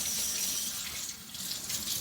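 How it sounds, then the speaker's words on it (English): Liquid pours continuously as buttermilk drains off homemade butter through a funnel, a steady close splashing trickle lasting about two seconds with no talking. "I want to pour this pure buttermilk off the butter."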